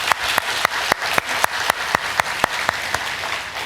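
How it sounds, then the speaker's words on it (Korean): A church audience claps in a strong, unison rhythmic beat, roughly four claps per second, close and loud with no talking over it. "우리 박수로 한번 위로해 주시겠습니다."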